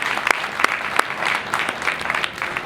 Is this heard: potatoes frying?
no